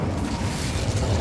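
An Incendio fire spell cast in Hogwarts Legacy, heard as a steady low rumbling burst of flame that holds at an even, fairly loud level for about a second.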